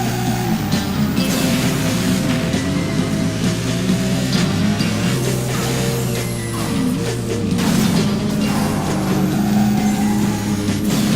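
A car races in the Burnout Paradise driving game, its engine a steady, loud roar with a heavy low rumble and occasional mechanical clunks and thuds throughout.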